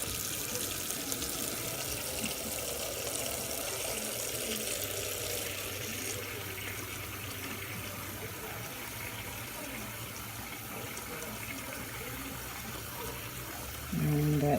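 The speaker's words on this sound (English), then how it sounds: "my faucet water actually gets really hot. I'm just gonna fill this up a little bit." Hot water runs from a household faucet into a container, a steady splashing stream that continues for many seconds, with a louder thud near the end.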